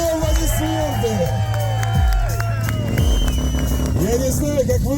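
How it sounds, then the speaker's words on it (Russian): Crowd at an outdoor bike festival cheering and whooping loudly, with dense babble and shouts and engine or horn tones running underneath throughout. "Ребята, бурные аплодисменты!"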